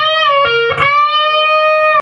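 An electric guitar plays a lead line, with sustained notes bending up and releasing, a couple of quick picked notes in between, then a note cut off at the end.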